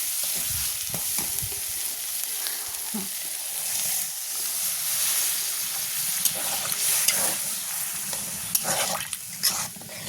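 Tilapia fish curry with tomato and potato cooks in a pan, a continuous close sizzle and frying hiss with occasional stirring scrapes throughout.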